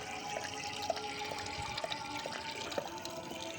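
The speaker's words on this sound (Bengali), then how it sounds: "ও ছোটো থেকে অভ্যেস ওর কল খুলে জল খাওয়া" Water trickling steadily from an open tap while a Labrador named Jenny drinks from the stream, with soft splashing and faint repeated lapping drips.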